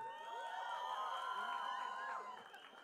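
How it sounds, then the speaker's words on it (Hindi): An indoor audience at a film trailer launch cheers, whoops and whistles in a loud, continuous roar that eases slightly toward the end. "पहले तो मतलब एक बार ताली बजाइए जो भूमि के फैंस हैं इस रूम में"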